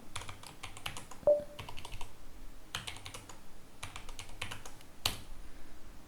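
Keys clatter on a computer keyboard while a git config command is typed, with several bursts of quick, close keystrokes broken by short pauses and a sharp single click.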